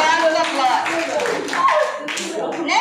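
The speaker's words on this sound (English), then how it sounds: "A big round of applause." An audience welcomes a panelist at a panel discussion with a burst of clapping mixed with vocal cheers and voices, fairly loud and continuous for a few seconds.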